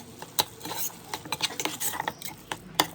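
Amaranth (thotakura) curry stirred and mashed with a ladle in a pan: soft irregular scrapes, taps and knocks of metal against the pot, close and fairly quiet.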